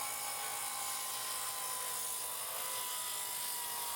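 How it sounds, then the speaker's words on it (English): A skill saw cuts straight through a wooden board for a raised vegetable bed, giving a steady, loud, high-pitched motor whine that holds unbroken for the whole stretch, with no talking. "using your skill saw, cut all the way through in a clean line"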